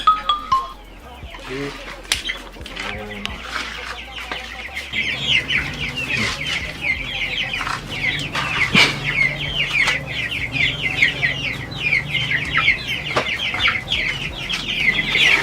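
Chickens clucking in a backyard coop, a dense, busy chorus of clucks and squawks close at hand, with some voices and clatter early on before the birds dominate.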